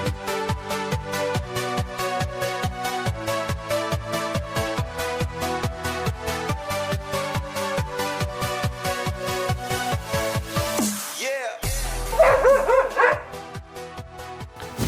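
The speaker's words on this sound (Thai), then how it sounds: "แล้วสรุปแล้วเห่าอะไร" A dog barks in a long, steady run of evenly spaced, loud barks over about eleven seconds. After a brief gap come a few higher yips and whimpering sounds.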